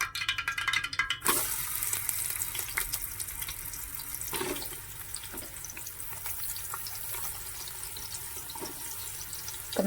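Onions go into hot oil for home-style dum biryani and give a loud burst of hiss at first, then settle into a steady, close sizzle and crackle with a few sharp pops.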